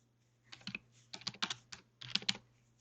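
Computer keyboard typing in three quick clusters of crisp keystrokes, close and clear over a low steady hum, entering a message while building a game.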